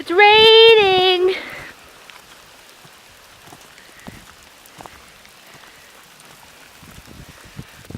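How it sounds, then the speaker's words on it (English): Rain falling in a forest, a soft steady patter with scattered drops striking leaves nearby, following a short burst of a high voice at the start. "It's raining!"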